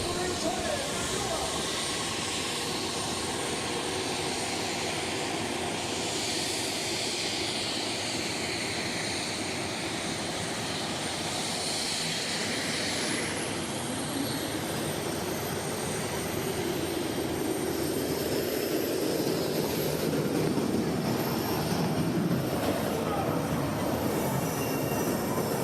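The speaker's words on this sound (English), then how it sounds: "we just get the turbine spinning and ready for action for the Argos Oil Whispering Giant" A turbine engine in the Argos Oil Whispering Giant pulling tractor spins up at a tractor pulling event in Putten, with a loud, broad steady roar and a rising whine building over about 25 seconds while crowd and commentary noise run underneath.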